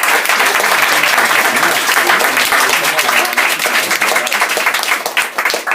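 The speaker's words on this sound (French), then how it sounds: "Je vous demande d'applaudir mademoiselle Cécile Djonga." A stand-up comedy crowd applauds as comedian Cécile Djunga comes on: loud, sustained clapping from many hands fills the room throughout, with crowd noise mixed in and slight dips toward the end.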